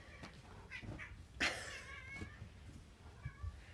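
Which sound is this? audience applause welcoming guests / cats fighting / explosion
cats fighting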